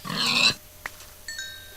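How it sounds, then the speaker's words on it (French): Pigs in a modded Minecraft game give a loud grunting oink, followed by a short click and a faint chiming game effect over a quiet background hum. "On va tuer des cochons."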